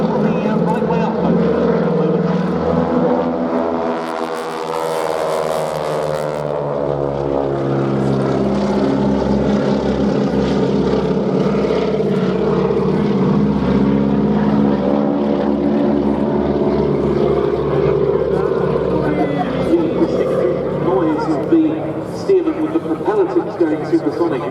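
Boeing Stearman biplane with radial engine and propeller performing an airshow display at Duxford, a loud continuous rasping drone with shifting harmonics as it manoeuvres, with a voice commentating over it.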